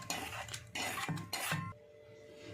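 A spoon clinks against a bowl in a few short bursts as a tempering of coriander powder, turmeric and salt is added to curd, then the clatter stops and only a quiet room tone remains.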